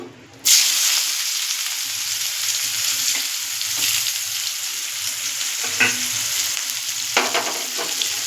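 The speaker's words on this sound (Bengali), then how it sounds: "এবার পেঁয়াজগুলো আমি ভেজে নেব।" Steady loud sizzling of onions frying in a hot pan, with occasional stirring scrapes and clacks over the continuous hiss of frying.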